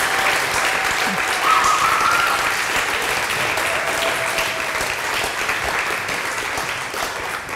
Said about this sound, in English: May I ask for a warm round of applause for Joris and Sam.